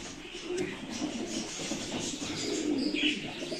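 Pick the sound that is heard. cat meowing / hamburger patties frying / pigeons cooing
pigeons cooing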